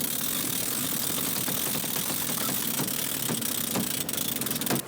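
Sailboat winch ratcheting as sails are hoisted on the Kilbrennan Sound, a rapid clicking run close by over a low engine hum, ending in a few sharper clacks.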